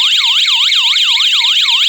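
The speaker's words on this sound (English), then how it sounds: "that should make the strobe siren go off" A loud electronic siren from an OSI wireless strobe alarm siren wails in a fast, steady up-and-down sweep, close and continuous.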